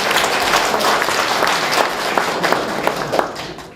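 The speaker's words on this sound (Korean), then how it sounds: "박수 한번 부탁드리겠습니다." Audience applause at a Daegu mayoral campaign event, a dense, steady wash of many hands clapping close by, with scattered sharper claps standing out.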